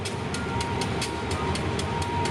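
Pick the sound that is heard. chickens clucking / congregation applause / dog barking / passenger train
passenger train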